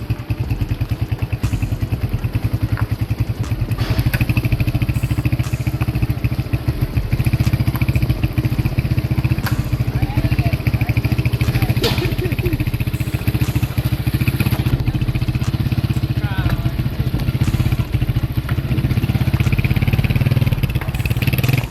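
A motorcycle idles and runs steadily nearby with a loud, continuous engine drone and a rattling clatter suggesting a worn sprocket bearing, persisting for about twenty seconds with no speech over it.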